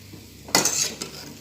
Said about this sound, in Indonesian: Kita aduk sampai dia mendidih.